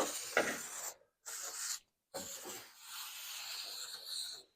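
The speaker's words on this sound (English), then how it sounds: "Note that I'm spraying the back side of the seal just as much as the top side" Short hissing bursts from a spray can onto a rubber hood seal of a 1967 VW Beetle, close up, separated by brief pauses, ending in a longer steady spray.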